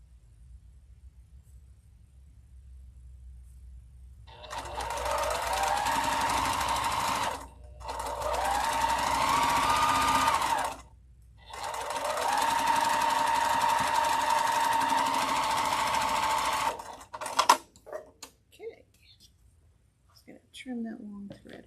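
A home sewing machine stitches in three loud, steady runs of rapid mechanical whirring, broken by short pauses, before a few clicks and light handling noises as the thread is trimmed.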